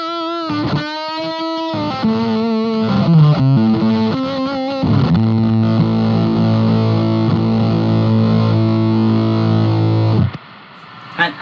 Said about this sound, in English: this is how the guitar sounds into the fuzz, full volume from here